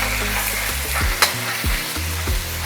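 Rice fries loudly in a hot pan, a steady dense sizzle broken by several scraping stirs of a spatula, close and continuous with no voices.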